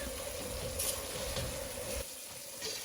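Garlic frying over medium heat in a pan, a steady close sizzle and crackle running throughout with slight swells, no voices.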